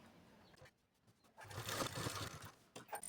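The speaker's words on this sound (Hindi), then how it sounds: "चुन्नटे देने के बाद ना यहाँ पर मैं सिलाई लगा लूँगी इसे।" A sewing machine stitching a gathered blouse sleeve on a princess-cut blouse, a quiet start then a louder steady whirring run of stitches for over a second, alone without talk.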